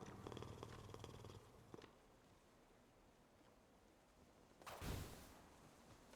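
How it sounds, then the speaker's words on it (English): A cat purring as it is petted in Hades II, a soft rumbling purr that is quiet and low, followed by a brief louder whoosh near the end. "You can pet the cat."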